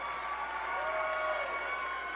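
Crowd and team bench at a high school basketball game break into steady, sustained applause and cheering after a hustle play, a dense wash of clapping filling the gym.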